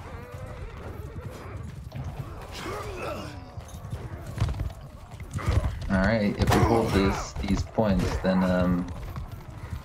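Horses gallop in a Bannerlord siege battle with over a hundred players, a ragged patter of hoofbeats mixed with battle noise while someone talks over it.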